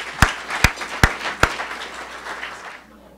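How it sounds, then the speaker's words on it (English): A small awards-ceremony audience claps, with a few sharp, loud claps standing out at the start before the applause thins and fades away over about three seconds. "so last round of applause."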